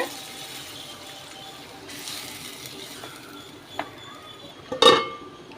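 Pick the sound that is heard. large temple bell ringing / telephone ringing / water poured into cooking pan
water poured into cooking pan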